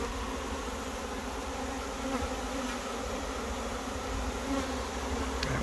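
A swarm of honey bees fanning their wings, a dense continuous buzzing hum heard close and steady with no talk.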